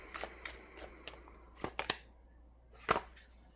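A deck of Twin Flame Oracle cards is shuffled and handled during a tarot love reading, with soft papery riffles and flicks, a few crisper snaps, then a brief slap, all quiet and close with no speech.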